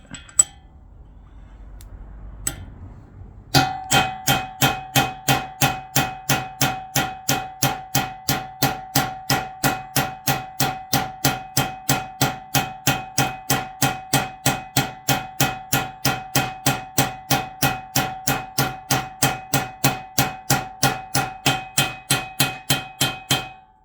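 Steady, evenly spaced hammer blows ring out in a long series on metal during a Yamaha SRX600 motorcycle restoration, loud and close, with a bright ringing tone after each strike.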